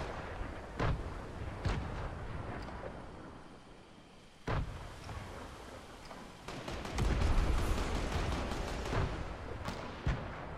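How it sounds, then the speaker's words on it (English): Rockets are launched and blow up trees in a game, heavy booming blasts and explosions echoing at a distance, scattered over a low rumbling background with louder clustered impacts toward the end. "Some guy's just launching rockets."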